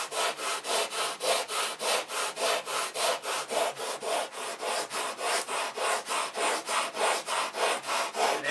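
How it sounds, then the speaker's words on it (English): Coarse 30-grit sandpaper rough-shaping balsa wood: rapid, even back-and-forth rasping strokes, about two per second, close and continuous with no talking. "This is 30 grit sandpaper."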